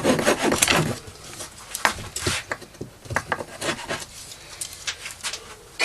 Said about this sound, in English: Just get a little saw.